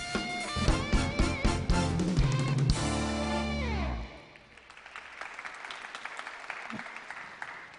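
A live band at the 2020 Jinju song festival plays a loud, brassy musical flourish for about four seconds, then it cuts off and an audience applauds steadily at moderate volume, with occasional louder claps, to the end.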